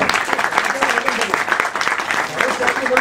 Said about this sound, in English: I think first a big round of applause for